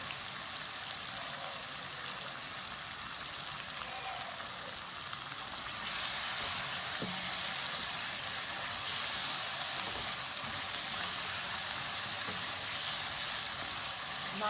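Masala meat (gosht) frying in a pan, a steady bright sizzle throughout that grows louder partway through as the cooking intensifies, close and without talk.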